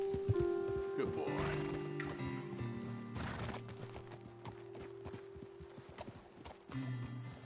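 Horse hooves clip-clopping in the video game Red Dead Redemption 2, close and rhythmic at first, then thinning out as the horse slows, with a brief whinny and someone talking over the hoofbeats.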